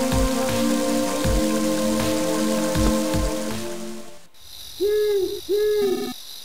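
Steady rain in a video game (Mother 3) patters over a low rhythmic thumping for about four seconds, then stops abruptly, leaving two short hooting calls against quiet background hum.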